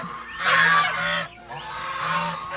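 Geese that escaped their broken pen on a farm honk loudly and close by, in two bursts of harsh calls separated by a brief pause, with no talk.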